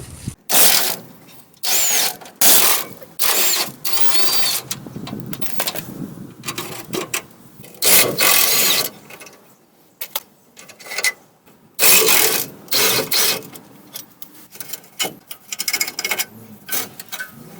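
Flywheel bolts being removed from a 2004–2009 Ford F150 with a 5.4 3V engine, heard as loud close bursts of an impact or power tool separated by short pauses.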